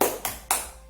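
Three sharp hand claps ring out in quick succession, close and bright, as part of a class clap chant.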